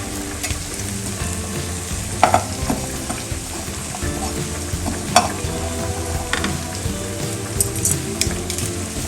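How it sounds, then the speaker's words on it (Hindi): Onions and cumin seeds fry in a pan in a steady, close sizzle, with scattered pops and stirring clinks over the continuous hiss and no talking. "हटा के प्याज थोड़ा सा फ्राई हो जाएगी"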